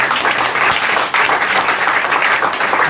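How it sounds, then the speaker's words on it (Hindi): A church congregation clapping in thanksgiving during a sermon, a loud dense wash of many hands, steady throughout with a brief dip, and no voices. "शुक्रगुजारी की तालियां बजाएंगे उसके लिए"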